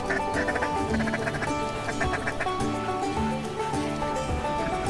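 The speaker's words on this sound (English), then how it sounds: "Birds up behind us coming in." Many ducks calling and quacking as a flock flies in over a waterfowl hunt in Manitoba, a dense overlapping chorus of harmonic calls that stays loud and steady throughout, with no talking.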